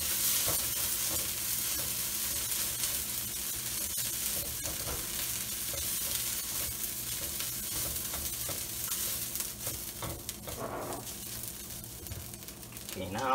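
Ginger and garlic stir-fry in a pan during moo shu pork preparation, giving a continuous soft hiss and crackle with occasional scraping and utensil knocks.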